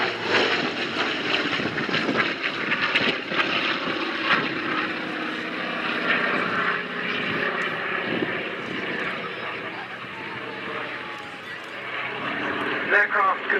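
A Hawker Fury warbird flies at the Duxford Battle of Britain airshow, its propeller engine giving a steady, loud droning roar that swells slightly as it passes, with a commentator talking over it.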